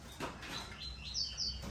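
A caged young songbird, papa-capim or coleiro baiano, sings a few short bright chirps and trills over quiet background noise, fairly close and soft.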